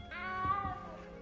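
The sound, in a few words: cat meowing in Hogwarts Legacy video game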